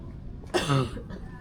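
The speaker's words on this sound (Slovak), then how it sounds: "to ona kašle" A single short, harsh cough from a woman near the middle, fairly close, against quiet background, in Pattaya, Thailand.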